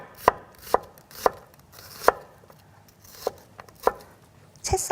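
A knife chops through an onion on a cutting board in a series of sharp, close knocks, roughly seven strokes at uneven intervals with quiet gaps between, ending in a brighter clatter.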